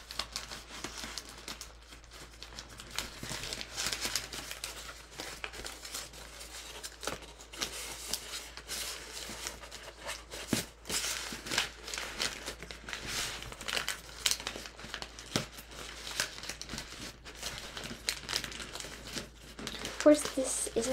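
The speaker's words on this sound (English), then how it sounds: "And now you're basically gonna fold this up." Origami paper creases and crinkles as it is folded into a wasp model, soft rustles and small snaps running steadily throughout beneath continuous speech.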